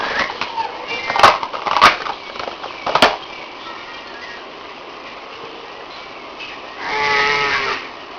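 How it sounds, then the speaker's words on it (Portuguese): A cow moos nearby, one drawn-out low call near the end, after a few sharp knocks and a stretch of soft rustling background. "É, a vaquinha."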